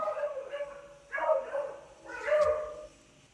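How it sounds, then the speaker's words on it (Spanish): A dog barks in short bursts in the background, three groups of yips spaced about a second apart, moderately faint behind a quiet room. "Escuchaba un perro por ahí."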